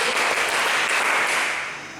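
A group of people claps in unison as part of a clapping game at a youth church service, a dense burst of applause-like hand claps that fills the short clip and tapers slightly at the end.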